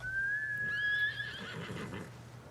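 A horse in the video game Ghost of Tsushima gives one loud, clear whinny that rises and then trails off into snorting breath, over a low steady background rumble.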